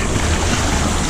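Rough surf breaks on a deserted, sun-baked beach, a loud, continuous roar of churning waves and wind buffeting the microphone, with no voices.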